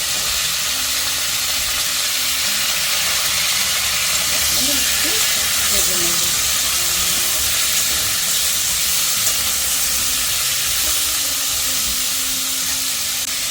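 Cauliflower, potato, carrot and tomato frying together in a pan for a winter vegetable khichdi, giving a steady broadband hiss and sizzle that stays constant throughout with a low background hum.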